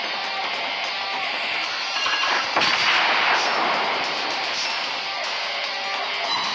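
Heavy naval cannon fire in World of Warships Blitz, aboard the cruiser Nurnberg, a loud continuous roar of battle with a sharper booming swell midway, staying dense and steady throughout.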